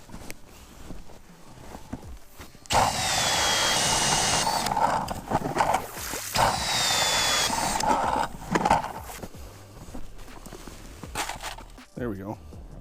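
Powered ice auger boring fresh holes through lake ice while ice fishing for bluegills, two loud sustained grinding bursts of a few seconds each, with talk before and between them.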